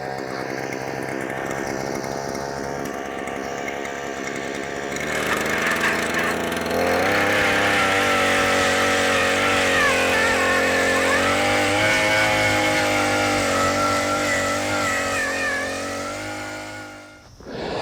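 A loud petrol power auger drones steadily and close by, drilling into hard clay ground, its pitch rising and straining as it works under load, then cutting out near the end.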